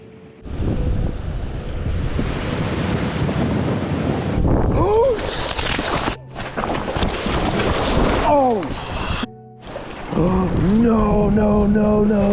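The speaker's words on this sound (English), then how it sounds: "out of nowhere, the wind picked up and things got real bad" Strong gusts blasting a microphone beside a river in the Lake District while fishing, loud buffeting roar that surges and drops, with brief speech and exclamations breaking through between gusts.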